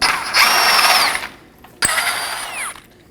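A power tool whirs in two loud bursts as a control arm bolt and nut are removed from a 2020 Toyota Corolla's right front suspension, close up with a short pause between runs.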